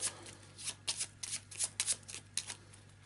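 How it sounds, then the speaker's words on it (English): A deck of cards from an Eldritch Horror board game is quickly shuffled, a string of crisp riffling bursts close by with no talk. "So quick shuffle."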